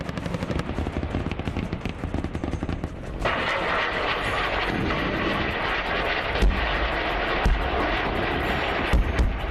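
An Apache AH-64E attack helicopter of the Indian Air Force in flight gives a loud, steady broadband roar throughout, with a few sharp thumping impacts near the end and no voices.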